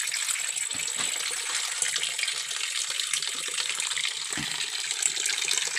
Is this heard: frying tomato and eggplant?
no